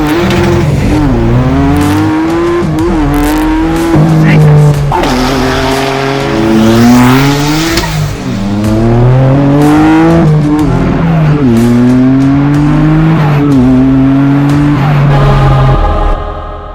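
Noble M12 GTO 3R sports car engine, heavily modified, revving hard and loud through quick successive gear shifts, pitch climbing then dropping with each change, close and continuous without talk.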